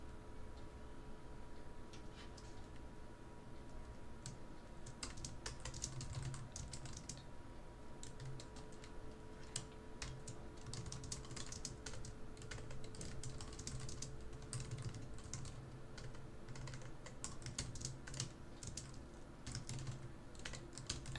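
Steady, quiet clatter of typing on a computer keyboard continues for about twenty seconds, with irregular bursts of key presses and no talking.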